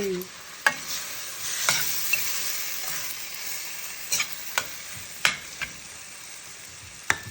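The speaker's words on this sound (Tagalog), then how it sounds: "At i-mix na naman natin." Stirring in a pot of chicken soup with moringa leaves, a few sharp scraping clinks spaced irregularly over a soft steady sizzle, close and moderately quiet with no talking.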